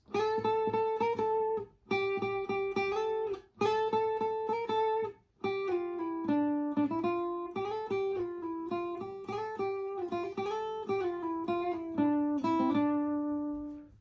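A single guitar picks out the Pirates of the Caribbean theme note by note, clear and close, with short gaps between phrases and no voices.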